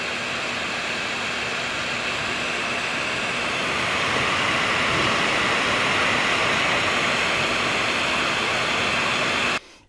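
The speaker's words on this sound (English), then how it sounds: "It makes like an air noise every now and then," A steady, broad airy hiss, like an Intel NUC NUC10i7FNKN mini PC fan, holds evenly at moderate loudness and swells slightly midway, then cuts off abruptly at the end.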